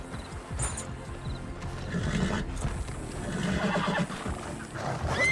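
A horse left standing parked in a street neighs and whinnies loudly and close, with a few hoof clops and a busy, noisy background.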